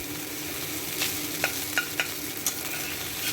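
Flattened rice slowly frying for chira pulao, a steady soft sizzle underneath a handful of brief scraping stir strokes spaced across a few seconds, close and fairly quiet.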